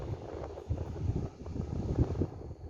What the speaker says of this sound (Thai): วันนี้ก็มีลม